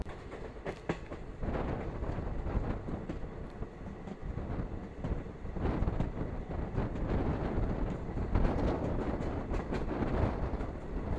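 The Kannur–Ernakulam Intercity Express runs past Vadakara station, a steady loud roar of rolling wheels and rail noise with rhythmic clatter and occasional sharper knocks, heard from on board with no talking.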